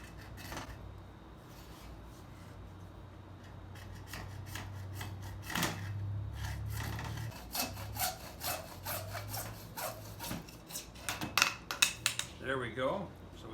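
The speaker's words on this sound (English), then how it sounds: "I'm going to take my hacksaw and I'm going to cut off just a piece of this to work with." A hacksaw cuts through 3/4 inch plastic sprinkler pipe in repeated back-and-forth strokes, close and fairly loud. The rhythmic rasping grows choppier and more uneven toward the end of the cut.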